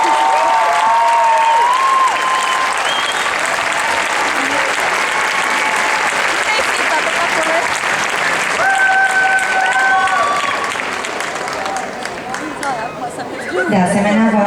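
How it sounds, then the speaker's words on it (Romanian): Audience applause for a couple at an adult Latin dance masters competition, steady and loud through most of the stretch with crowd chatter mixed in and an announcer speaking over it. "De asemenea, vă rog să susțineți cu aplauze evoluția perechii cu numărul 436"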